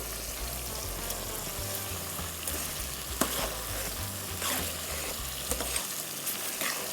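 Fish fries lightly in hot oil for Nigerian ayamashe stew, a continuous close sizzle and crackle with a few soft stirring knocks, no voices.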